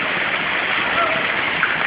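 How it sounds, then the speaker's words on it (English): Indoor waterfall pouring down into a large fish tank, a loud, steady broadband rush of falling water with no pauses, close and continuous throughout. "There's the waterfall that goes down into"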